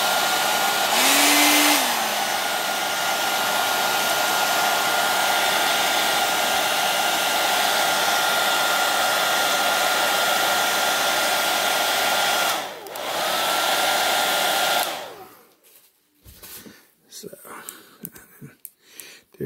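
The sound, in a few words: hair dryer blowing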